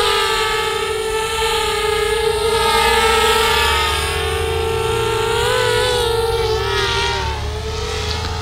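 A DJI Spark drone flying at high speed across a field gives a loud, steady whining buzz of high propeller tones, bending slightly in pitch as it sweeps past up close.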